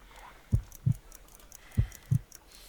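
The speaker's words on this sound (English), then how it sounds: "I need to concentrate and count the heartbeats." Heartbeat in the Sherlock Holmes Crimes and Punishments video game: two slow lub-dub pairs of soft, low thumps, evenly spaced and alone against a quiet background.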